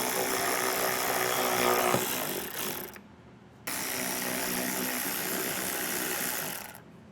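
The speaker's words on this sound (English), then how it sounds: "Now we're going to take an 8mm socket." An 8mm socket driving out mud flap screws on a 2020 Subaru Outback, a close, steady whirring ratchet buzz that pauses briefly, then resumes for several seconds before stopping.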